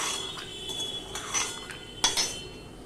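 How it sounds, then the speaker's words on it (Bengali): Fried peanuts tipped into a bowl, giving a few light clinks and rattles of nuts and a utensil against the dish, close and quiet, over a steady kitchen hiss with no talking. "বাদামটা আমি এখানে তুলে নিলাম একটা বাটিতে তুলে নিলাম"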